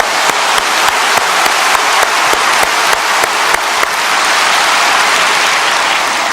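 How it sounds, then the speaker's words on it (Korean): Enthusiastic clapping from a large church congregation during a sermon, loud and close, with a few sharp rhythmic claps at first before settling into steady applause. "아예 한번 힘차게 박수 칩시다."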